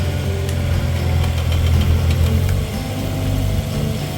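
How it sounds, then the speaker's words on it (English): A tractor engine runs loud and close while scooping soil out of a reinforced garden bed. It makes a continuous low, knocking rumble with slight shifts in load and no talk. "just take the tractor, scoop it out"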